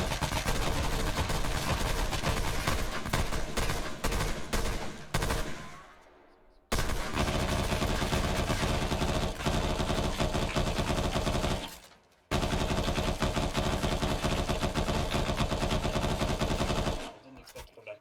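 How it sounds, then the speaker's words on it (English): A firing line in the video game Wolfpack opens up with loud, sustained machine-gun fire, continuous volleys broken by two brief pauses before resuming at full intensity. "Just open fire."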